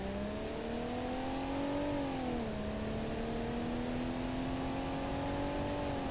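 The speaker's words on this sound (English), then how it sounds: "Nice sounding engine on this though." A car engine in the BeamNG.drive driving game holds a steady, smooth drone that climbs, dips briefly and then rises slowly again, loud and constant with no talking.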